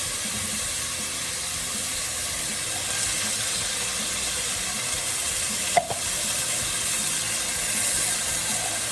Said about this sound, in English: The meat is browning and the onion bits and garlic are getting caramelized.